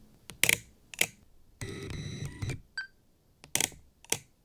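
Crisp leaf shutter clicks from a Hasselblad X1D II medium format mirrorless camera, several sharp close releases spaced apart, with a short burst of mechanical whirring and faint beeps in the middle, no talking.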